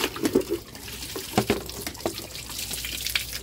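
Water gushes in irregular splashing bursts from a hand pump at a well, close and moderately loud, with uneven spurts and dribbles.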